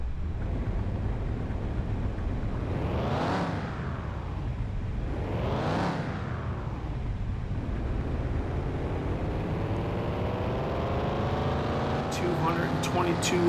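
A police sheriff's car in the video game Car Mechanic Simulator 2021 revving on a dyno, with two sharp rising-and-falling revs followed by a long, steady climb to a high, strained whine, loud and close.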